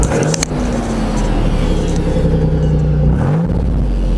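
A 1992 Nissan Cedric engine revs loudly through its exhaust, a deep rumbling roar rising and falling in a couple of blips, close by.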